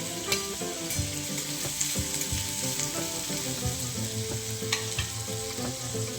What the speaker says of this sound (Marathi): कमी गॅसवरती थोडंसं परतून घ्यायचं आपल्याला परतत असताना त्याच्यामध्ये थोडासा कढीपत्ता टाकायचा